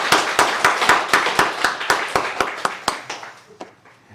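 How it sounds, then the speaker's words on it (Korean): A church congregation at a Sunday thanksgiving service claps in thanks, a run of about fifteen sharp, evenly spaced unison claps that slowly fade and thin out toward the end. "우리 하나님께 감사의 박수 한번 하겠습니다."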